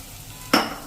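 Spoon stirring coriander into brinjal ora in a pan, heard as a sudden close scrape and sizzle after a quiet moment, fading into a soft hiss with another scrape at the end.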